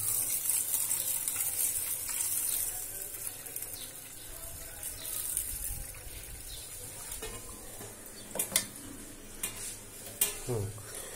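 Rice and lentils for Bengali khichuri are washed in a pot: water sloshes and grains swish under a steady hiss, with a few sharper clinks and splashes near the end.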